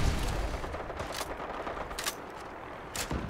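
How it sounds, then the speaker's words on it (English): Enemy gunfire in the video game Fallout 4, with Enclave gunners firing several broadband shots and bursts over a steady dense game soundscape. "Oh, they're shooting."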